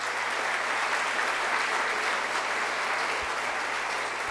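Steady, dense applause from a conference audience at a procedural law congress, a continuous wash of clapping hands at even loudness throughout, with no speech over it.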